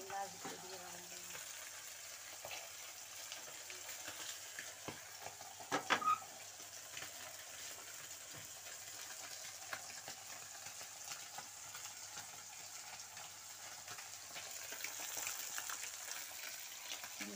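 Fish fries in a pan, giving a faint, steady sizzle across the whole stretch with a brief louder clatter partway through and a slight swell near the end.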